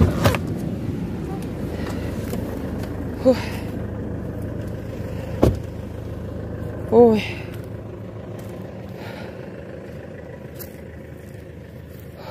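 A parked car's engine left idling gives a low, steady hum through the whole stretch, close and fairly quiet, with a few brief knocks and a short exclamation from a voice over it.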